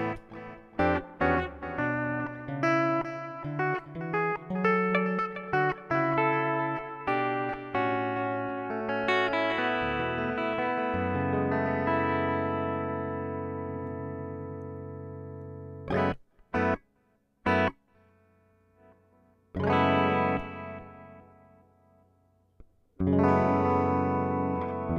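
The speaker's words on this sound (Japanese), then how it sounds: "最近買ったこのボスのリバーブの RV6 ってのが結構いいので" Electric guitar through a BOSS RV-6 reverb pedal: notes and chords ring out with long, washy reverb tails, strums and sustained tones swelling and decaying, with a few short bursts of feedback near the end.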